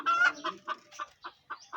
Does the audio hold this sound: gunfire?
no